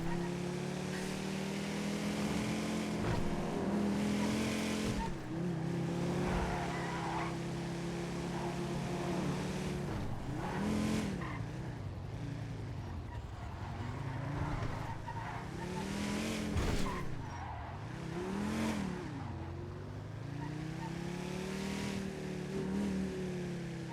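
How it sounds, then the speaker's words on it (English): Car traffic in GTA V's city streets, engines revving and passing close by with swelling and fading whooshes and occasional tire noise, loud and continuous under faint talk. "Fucking traffic here is too loud"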